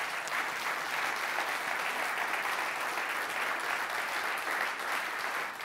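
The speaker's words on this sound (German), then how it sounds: "Und ich würde jetzt noch mal um großen Applaus für Sie alle gegenseitig bitten, für alle Nominierten und Preisträger." Sustained, steady applause from an audience at an innovation prize award ceremony, honouring the nominees and prize winners, filling the whole stretch at even strength without a break.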